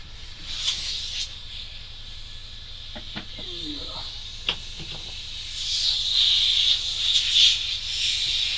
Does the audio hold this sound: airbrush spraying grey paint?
yes